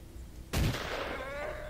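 A gunshot in the online video game Stalker Online: one sudden loud blast followed by a sustained rumbling echo and tail.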